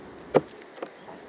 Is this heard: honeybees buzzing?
yes